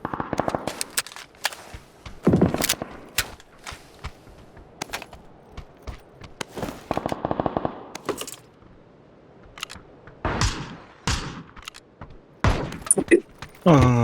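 Video game gunfire aimed at shipping containers: sharp, loud bursts of shots in irregular clusters with short silent gaps between them, heard up close with no talk.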